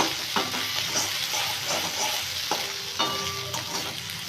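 Pea paste frying in hot oil and being stirred, a continuous loud sizzle broken by periodic scraping strokes of a spatula against the pan.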